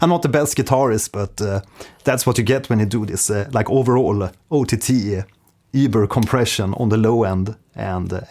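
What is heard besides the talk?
None of the usual background noises is heard.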